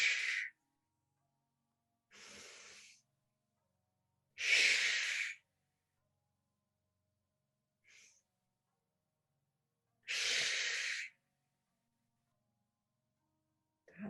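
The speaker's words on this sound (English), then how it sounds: "Breathing in and releasing with the sound shh." A person breathes in and then exhales with a soft shh sound, several separate breath bursts spaced by quiet pauses, close and fairly gentle.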